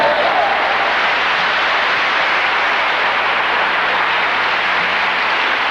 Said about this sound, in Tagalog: alam ko, sincero ang palakpak dito.